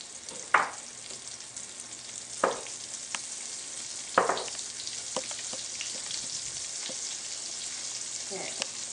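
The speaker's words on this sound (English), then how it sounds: "And just fry them up until they get a little brown on each side." Eggplant pieces fry in a pan with a soft, steady hiss, punctuated by a few sharper taps and pops from the pan and utensil. No one speaks.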